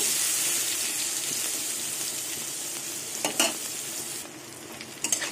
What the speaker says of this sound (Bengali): বেগুন ভাজা হয়ে এসছে, আর একটু হবে